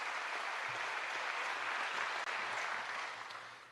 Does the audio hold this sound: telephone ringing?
no